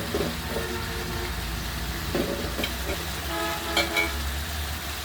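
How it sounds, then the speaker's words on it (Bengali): Mutton and potatoes being stirred through spiced masala in a pan, with steady frying sizzle and intermittent scraping of the spoon throughout, fairly close. "আলু দিয়ে আবার ভালোভাবে নেড়ে চেড়ে নেব।"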